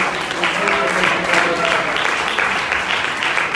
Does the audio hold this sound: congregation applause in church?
yes